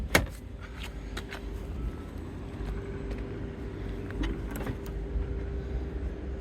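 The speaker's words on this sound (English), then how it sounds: "I'm going to open the boot and have a look in the boot." Sharp clicks and a latch clunk from the boot of a Fiat Coupe 20V Turbo with rear-end damage as it is opened, a few knocks over a low background hum, with no talking.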